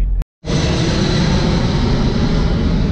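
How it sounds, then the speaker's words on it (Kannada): An army aircraft roars overhead at close range near Siliguri, a loud broadband engine rush that cuts in abruptly after a brief gap and holds steady. "ನೋಡ್ಗುರು ಆರ್ಮಿದು ಫ್ಲೈಟ್ ಹಾರ್ತಾ ಇದೆ ಎಷ್ಟು ಹತ್ರದಿಂದ"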